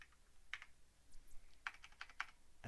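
Quiet clicks of keys on a computer keyboard as a short command is typed, a few isolated taps followed by a quicker burst of keystrokes, close and faint with no talking.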